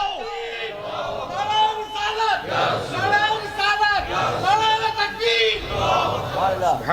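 A large religious gathering chants a slogan in unison, loud, rising and falling voices repeating in waves with a rhythmic cadence.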